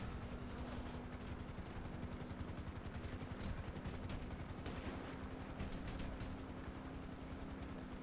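A video game helicopter thumping with fast rhythmic rotor chop over a steady hum, faint and continuous, with scattered gunfire-like cracks mixed in.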